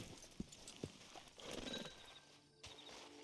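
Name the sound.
horse hooves clip-clopping in Red Dead Online video game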